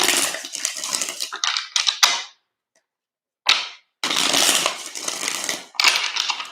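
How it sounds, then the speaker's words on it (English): A deck of tarot cards is shuffled by hand in close, crisp riffling bursts, with a few brief silent gaps between shuffles. "2 more shuffles here."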